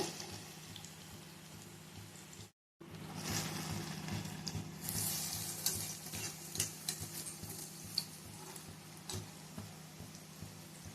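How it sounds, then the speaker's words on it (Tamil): Chana dal and coconut sukhiyan frying in hot oil give a steady, close sizzle with scattered crackles and pops. The sound cuts out for a moment, then resumes as a fuller bubbling hiss. "முக்கி நம்ம எண்ணெயில் போட்டு எடுத்துக்கலாம்."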